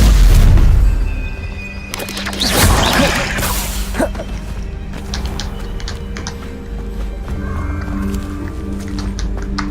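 Expelliarmus disarming spell cast during combat in Hogwarts Legacy: a deep booming impact with a swishing burst, followed by several sharper magical hits and crackles over a rumbling battle background.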